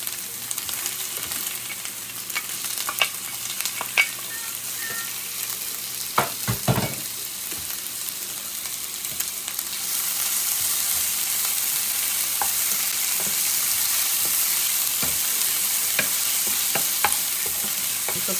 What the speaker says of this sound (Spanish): Ahora voy a ponerle el tomate.